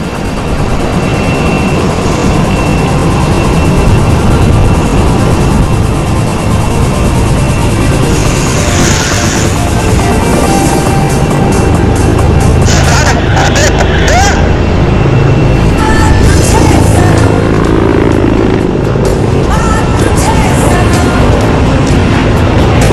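Sarang helicopter display team flying past at the Aero Show 2019 air show, a loud, continuous roar of engines and rotors that swells and holds steady, close and overwhelming.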